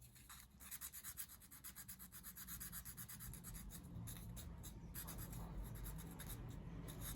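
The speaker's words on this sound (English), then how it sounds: "bring in your piece of sandpaper and just sort of round over like that" Sandpaper gently rubs and rounds the small wooden corners of a 1/12th scale dollhouse bookcase, a faint, rhythmic back-and-forth scratching heard close up without talk.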